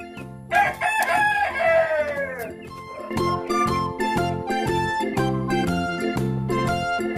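A Rhode Island Red rooster crows at a poultry farm, loud and close. Several drawn-out calls rise and fall over a busy backdrop of clucking hens and other fowl.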